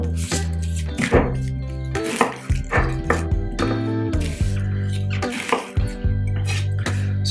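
A kitchen knife chops through an onion on a cutting board while the blossom end is trimmed off, giving a run of irregular, close, firm thunks and knocks.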